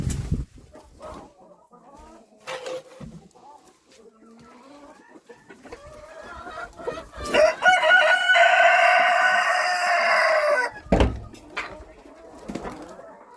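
Farmyard chickens being fed potatoes: soft scattered clucks and rustling build into a loud, close rooster crow that holds for several seconds, followed by a few sharper squawks.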